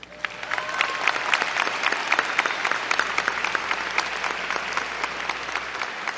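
A graduation crowd at United High School in 2016 gives the teachers a loud round of applause, dense and continuous clapping from many hands that holds steady throughout.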